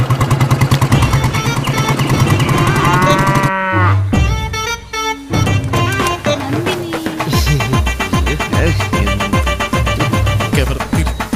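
Cattle at a cattle farm, several long, loud mooing calls with rich harmonic tones overlapping one another, some near and some farther off, with a stretch of quieter, breathier lowing in between.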